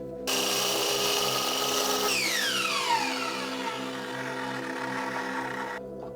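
Steady power tool cutting a basement railing piece to length, a continuous loud whine running about five and a half seconds with a pitch sweep midway as the blade bites, then stopping; no talk.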